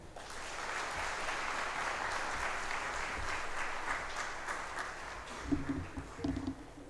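Steady, sustained applause from the audience at a parliamentary and policy makers' business forum fills the room, with a few low voices and thumps surfacing near the end.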